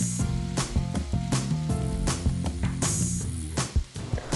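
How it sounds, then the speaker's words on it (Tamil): Orange chicken sauce bubbles and sizzles in a hot pan, a steady hissing with soft popping bursts, heard up close under faint background music. "இப்போ கலந்து வச்சுருந்த சாஸை இதில் ஊற்றி கொதிக்க விடுங்க."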